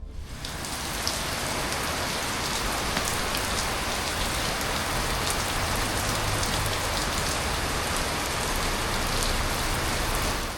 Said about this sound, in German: Am Abend regnet es wieder.